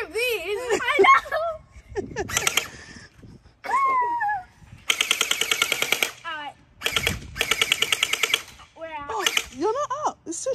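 An FT Bwine M3A1 electric gel blaster fires Orbeez gel balls in rapid full-auto bursts, several rattling strings of shots separated by pauses, with people talking and laughing between and over them.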